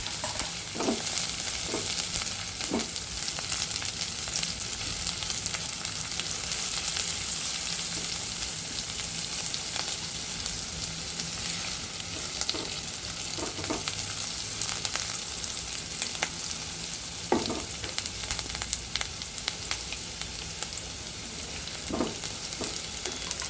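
Garlic and ginger fry in a pan for a dhaba-style rajma dish. A steady, hissing sizzle carries on throughout, with occasional clinks and scrapes of stirring mixed in.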